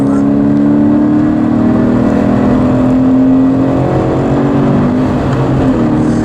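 Toyota GT86 lapping the Foster circuit at reduced warm-up pace on a trackday, its engine droning steadily and loud from inside the cabin with a sustained even tone and no breaks.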